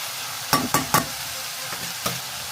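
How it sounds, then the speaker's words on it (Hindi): Cooked mushrooms with soy sauce are stirred in a pan over a soft sizzle, a quick run of three utensil scrapes and knocks followed by a fainter pair later on. "अब मशरूम तो ऑलरेडी पका हुआ ही है, तो बस सिर्फ मिक्स करना है अच्छे से."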